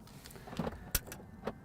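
Faint electric motor whir and soft mechanical clicks as the motorised infotainment screen retracts into the dashboard of a locked Rolls-Royce Phantom, quiet and brief with a sharper click near the middle.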